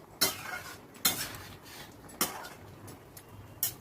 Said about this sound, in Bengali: কতগুলো মাছের ডিমের কোপ্তা আমি ডালের ভেতর দিয়ে দিলাম, দিয়ে এগুলো একটু নাড়াচাড়া করে মিশিয়ে নিচ্ছি